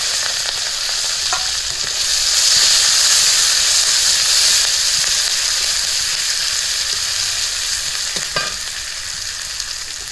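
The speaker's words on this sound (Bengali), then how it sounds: "এরপর কাঁচা লঙ্কাটা দিয়ে পেঁয়াজটা দিয়ে দিলাম" Dry and green chillies with onion fry in hot oil for a fish tel jhal, giving a loud, steady sizzle and hiss that holds for the whole stretch, with a couple of faint clinks and no voices.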